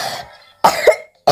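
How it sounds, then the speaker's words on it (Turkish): Two sharp coughs from a child, a short first burst followed by a louder, double-peaked one, then the start of another at the very end, close and clear. "Bu aralar biraz öksürüyorum da"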